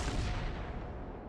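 Torpedoes launched from a warship in World of Warships: a single heavy, rumbling burst that fades steadily over about a second, with no voices.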